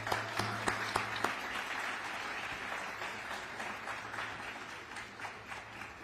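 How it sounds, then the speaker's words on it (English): An audience at a graduation ceremony applauds a young speaker: a few distinct close claps ring out first, then a broad, steady crowd clapping continues at moderate volume over a faint background hum. "Let's give Elle another round of applause"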